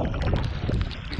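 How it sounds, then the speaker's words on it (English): Canoe paddling on a lake in the boreal forest, with dense close-up water splashing and churning along with wind buffeting the microphone, steady and loud throughout with no talk. "we're gonna paddle pretty hard until we find a nice place to camp at the end of this lake"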